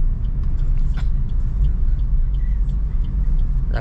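A low, steady engine rumble from a Suzuki Ertiga on the move, with faint traffic noise and a few soft clicks over it.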